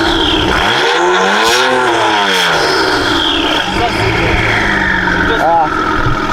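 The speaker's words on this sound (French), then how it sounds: "je peux te laisser appuyer un petit peu sur l'accélérateur pour qu'on entende ça" An Audi RS6 engine revs hard as the accelerator is pressed, rising and falling in loud sweeping surges close by, with people talking over it.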